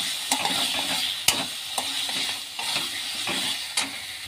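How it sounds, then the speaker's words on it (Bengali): Taro leaf greens with ginger paste being stirred in a pan, a steady sizzle broken by repeated spoon scrapes and clacks against the metal at irregular intervals, close and alone without speech. "এবার আর একটু ভালো করে নাড়াচাড়া করবো।"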